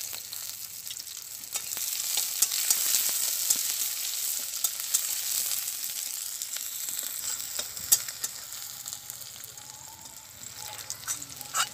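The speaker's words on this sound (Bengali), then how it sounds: "পেঁয়াজগুলোকে আমি তেলের মধ্যে হালকা ভেজে নেব।" Onions fry lightly in oil in a village-style kitchen. The sizzle is soft and quiet, with occasional faint stirring clicks throughout.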